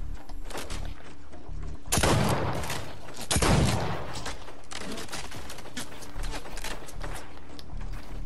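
Fortnite gunfire from a pistol-only match: a few heavy shots stand out as loud bursts among lighter scattered pops, close and punchy over a steady game background.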